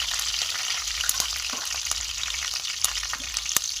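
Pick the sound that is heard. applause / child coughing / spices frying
spices frying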